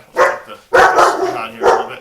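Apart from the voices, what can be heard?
dog barking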